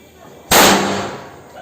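A single sharp firecracker bang goes off during Vishu festival celebrations, loud and close, followed by a decaying noisy tail and faint background sounds.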